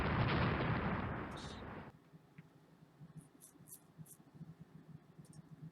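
Naval gunfire striking ships in the Rule the Waves naval strategy game: a loud, dense burst of cannon blasts for about two seconds, then it drops to a quieter low rumble with soft, scattered thuds.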